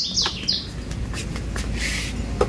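Small imported giboso canary chirping indoors, a few quick bright tweets followed by a softer trill, close and clear with no talk.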